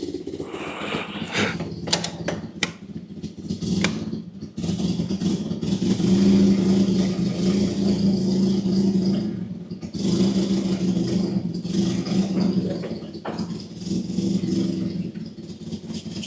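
A forklift engine runs roughly with a steady low drone and mechanical rattling and clunks, loud and close, and its intensity rises and falls, with no voices.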